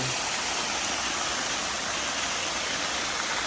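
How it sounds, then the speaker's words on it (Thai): A water park fountain at the Renaissance Pattaya hotel pours in a steady, loud, broadband rush of splashing water that fills the whole stretch without pause or speech. "มีน้ำพุด้วยทุกคนน่าเล่นมากน่าสนุกมาก"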